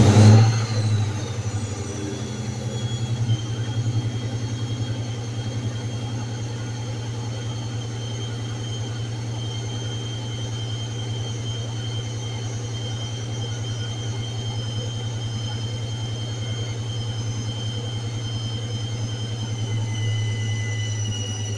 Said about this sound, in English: the sound of that supercharger never gets old.